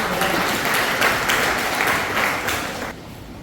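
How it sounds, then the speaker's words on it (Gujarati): An audience at a Theosophical Society workshop applauds a guest, dense clapping close and loud for about three seconds before it quickly fades away. "તો આપણે એમના માનમાં તાળીઓ પાડીને"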